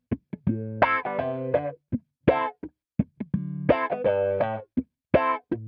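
Electric guitar through a synthy, Mu-Tron-style envelope filter plugin, playing a funky staccato line of quacking, sweeping notes and short chord stabs with silences between phrases, clean and up close.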